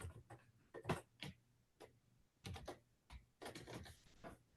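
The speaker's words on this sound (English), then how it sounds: "While Bryce is typing" Computer keyboard typing during an online working-group meeting, irregular bursts of quick, faint keystrokes with short pauses between them, close to the microphone.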